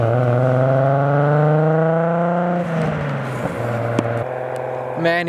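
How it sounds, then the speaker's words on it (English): A Nissan GTR engine drones at a high, steady pitch while drifting on private property, then drops, shifts and climbs again in harmonic revving; loud and fairly close. "Man, his GTR sounds so good."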